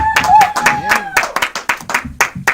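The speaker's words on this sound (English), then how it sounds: "I want y'all to clap your hands right now." Comedy club audience clapping for a comedian: a few seconds of sharp, uneven hand claps close by, mixed with whoops and voices calling out over them.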